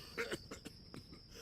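A man in the video game Dead Synchronicity coughs in a few rough, hacking bursts, close and fairly quiet, followed by fainter rasping breaths with no speech.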